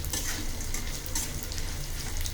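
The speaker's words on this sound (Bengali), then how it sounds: "শুটকিটা একটু হালকা লাল লাল করে ভেজে নেওয়া হচ্ছে" Dried fish (shutki) frying in oil in a pan, a close, continuous sizzle with faint stirring scrapes and no voices.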